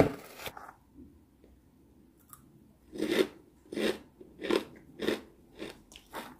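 A crisp Indonesian village snack, some plain salted and some with anchovy or chili seasoning, is bitten and chewed close up. It gives a run of loud, sharp crunches in a steady rhythm, with quiet gaps between them.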